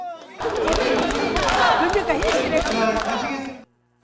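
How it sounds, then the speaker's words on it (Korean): A dense crowd of citizens in Gwangju cheers, shouts and claps around the visiting Prime Minister Kim Min-seok. The sound is loud and close, a mix of voices and applause that swells and then cuts off abruptly. "어딜 가나 박수와 환호가 쏟아졌습니다"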